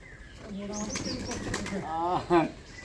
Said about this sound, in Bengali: আমি দেখতে পাচ্ছি অসংখ্য কবুতর রয়েছে